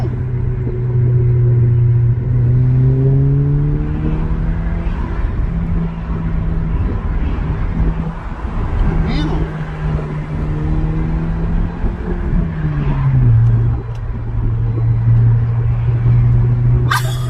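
A 2019 Honda Civic Sport with its muffler deleted, the engine droning loud and close with a raspy low hum that climbs and falls through several revs and idles, dipping briefly before swelling again near the end.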